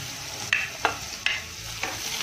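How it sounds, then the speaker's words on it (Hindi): Tomatoes go into onions frying in a pan for masala Maggi, a steady sizzle punctuated by four sharp spoon taps and scrapes against the pan, close and with no one talking. "टमाटर हल्के से गल जाए तब तक हम इसको फ्राई कर लेंगे।"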